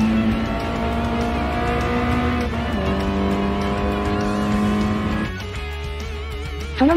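A Toyota GR86 race car in the Gran Turismo Sport video game accelerates hard with a loud, rising engine whine that climbs through the revs, drops at a gear change, and climbs again before easing off near the end.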